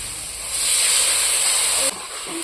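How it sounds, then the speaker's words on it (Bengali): Water poured into a hot pan of Bengali rohu fish curry sets off a loud, close steamy hiss that swells, holds for about a second and a half, then cuts down sharply. "আমি এখন জল দিয়ে দিচ্ছি দেখো"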